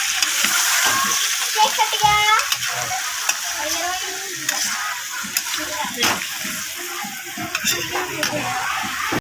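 Potatoes and drumstick vegetables sizzle and fry in a pan while being stirred, with steady frying hiss and scraping through the whole stretch, loud and close.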